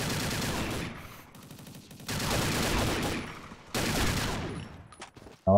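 Toy Gun fire in Combat Arms: three long automatic bursts, loud and near, separated by short pauses, with no talk over them.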